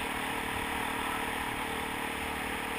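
A Kawasaki KLX dirt bike engine runs steadily while riding a Pennsylvania dirt road, a constant loud mid-pitched drone with wind rush and no clear changes in revving.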